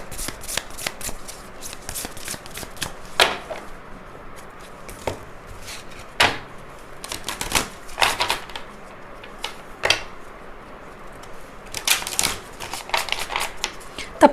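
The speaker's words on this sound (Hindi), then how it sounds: "ओके एक शफल करते हैं।" Tarot cards are shuffled by hand close by in repeated crisp, riffling bursts and flicks that continue in irregular clusters for about fourteen seconds.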